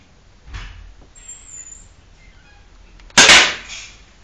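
A Benelli M4 airsoft shotgun firing one sharp, close shot near the end, after a quieter mechanical click and faint handling sounds earlier.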